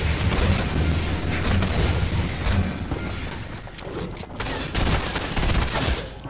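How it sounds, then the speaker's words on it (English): Video-game gunfire fills the scene with dense, rapid bursts of shots and booming impacts, loud and nearly continuous with a few brief lulls. "he's still shooting at me"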